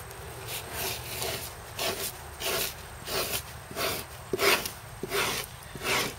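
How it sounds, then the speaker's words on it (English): Old finish scraped off a wooden surface in big peeling sheets, a steady series of about ten rasping strokes in even rhythm, close and fairly loud with no talking. "All you have to do is just keep scraping."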